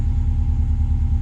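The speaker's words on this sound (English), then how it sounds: "you want to get your key and start the vehicle" A 2014-or-later Subaru WRX STI engine idles with a steady low rumble, a close and even drone with no voices.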